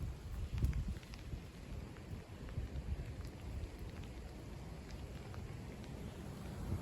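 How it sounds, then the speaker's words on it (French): Steady rain with gusty gale-force wind from Storm Éowyn, January 2025, roaring in the low end, a continuous blustery wash with no voices. "On a un peu de pluie, du vent assez fort quand même."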